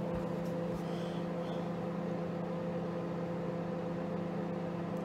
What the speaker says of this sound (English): Real life poached eggs cooking in the microwave